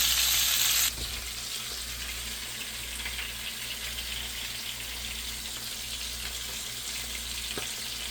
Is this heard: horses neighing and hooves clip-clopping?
no